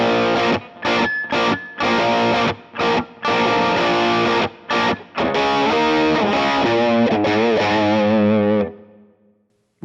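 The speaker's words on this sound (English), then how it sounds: "you can switch over to a Matchless D30, which sounds like this." Electric guitar through a Fractal Matchless D30 amp model on an FM3/FM9/Axe-FX III, playing a distorted rhythm part with choppy chord stabs and short gaps, then a sustained ringing note that fades out.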